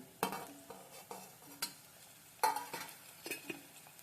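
Chopped onion fries in a pan for dal tadka, turning translucent: a soft sizzle punctuated by sharp clinks and scrapes of a spoon stirring against the pan, close and without speech.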